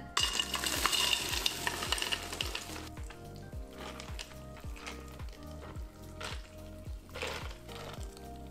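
A spoon stirs blended, unstrained mango agua fresca, giving repeated rhythmic swishes and soft clinks that are brighter at first, then settle into a steady, quieter swirl.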